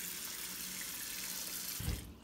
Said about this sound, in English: Then we fill it up with water.